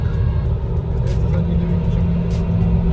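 A car climbing a hill on a road gives a steady low engine and tyre rumble from inside the cabin, with someone talking over it throughout.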